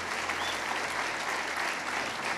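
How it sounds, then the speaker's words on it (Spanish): Church congregation applauding during a Spanish-language sermon, a steady dense wash of clapping that holds at an even level throughout, with no talk over it. "denle un aplauso al Señor"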